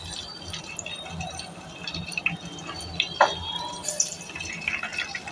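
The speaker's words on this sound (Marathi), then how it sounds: "मी पाण्याचा हबका मारल्यावर तडतडलं" Homemade ghee crackling in a pan after a splash of water, giving a steady sizzle with scattered sharp pops and crackles, close and moderately loud.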